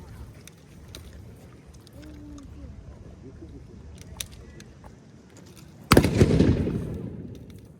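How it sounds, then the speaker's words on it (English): A single loud black powder blank round goes off close by, a sharp broadband crack followed by a rolling boom that fades slowly, with outdoor background noise before it. "he's gonna fire 3 rounds"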